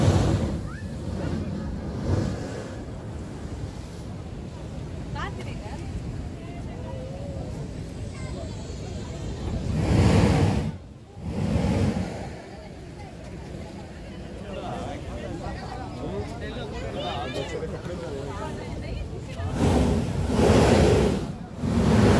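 Sea surf rolling toward the blowholes at Salalah, Oman, a steady wash of waves with gusty wind buffeting the microphone and a few louder surges, while someone talks over it.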